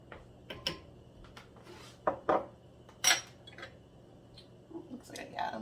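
A spoon clinks and scrapes against a bowl while cinnamon is stirred into vanilla-rose overnight oats. The light, irregular taps come close by, with quiet gaps between them.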